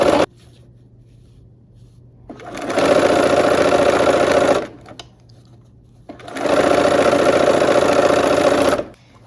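A sewing machine stitches fabric with bias edges in two steady bursts of about two seconds each, separated by quiet pauses, close and fairly loud with no talking.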